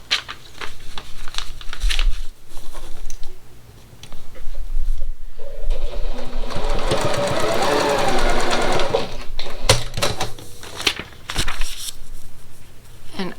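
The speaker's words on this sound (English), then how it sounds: "take your next color, line it up, and I'll just show you again. This line is what I'm trying to have coverage of, and then sew it down." A sewing machine runs in a steady close whir while stitching quilt block fabric for a pickle dish pattern, framed by brief handling rustles and clicks before and after, with a voice speaking nearby.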